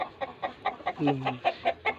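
Soft, rhythmic pigeon calls repeat in short pulses close by, a gentle cooing series with one longer tone in the middle.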